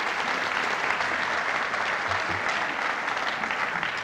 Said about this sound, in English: Big round of applause for the whole UNM IT team.